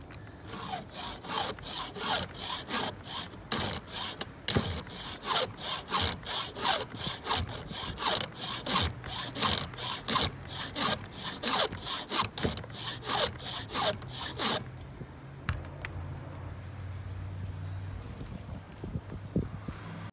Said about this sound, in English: I'm using the 7/32 file starting off. Alright, so this is going to be my first tooth.